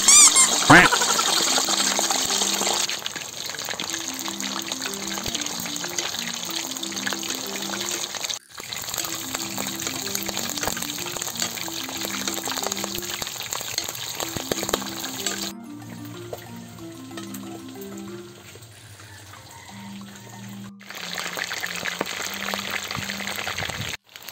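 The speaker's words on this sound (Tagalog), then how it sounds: "mainit na yung ating mantika, magpiprito na tayo" A pork leg for crispy pata deep frying in hot oil gives a steady, loud bubbling hiss that continues throughout, with a brief drop partway. Muffled background sound and occasional voices run underneath.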